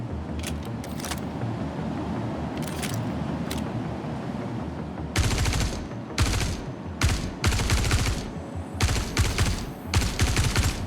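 Rifle fire in the video game Star Citizen: after a stretch of steady ambient rumble, rapid bursts of gunfire break out in several loud, clustered volleys over the second half.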